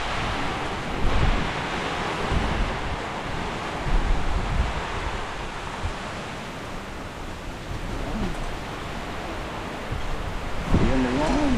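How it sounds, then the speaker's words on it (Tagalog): A passing storm brings steady roaring wind and rain, a broad, close rush with gusts buffeting the microphone throughout, and a voice briefly heard near the end. "Habang kinukuhanan ko itong unos na dumadaan"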